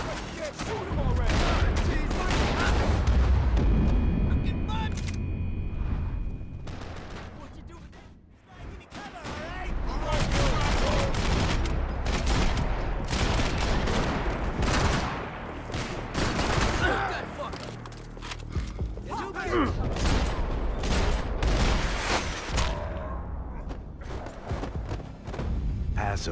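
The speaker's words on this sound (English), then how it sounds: "Shoot that piece of shit! Shoot him already!" Sustained gunfire in a Max Payne 3 shootout: rapid bursts and single shots packed close together over a long stretch, with loud shouting voices between and over the shots.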